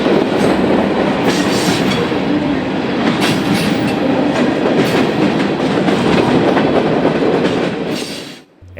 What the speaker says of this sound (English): The train will connect onto the IHB at Calumet Park Junction